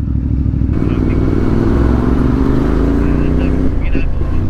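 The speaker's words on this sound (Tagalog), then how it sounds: "Grabe mga traffic dito no par." Busy road traffic near a bridge under construction on a bypass toward Manila, with cars and motorcycles rumbling steadily and engines droning close by throughout; a voice talks over the traffic noise.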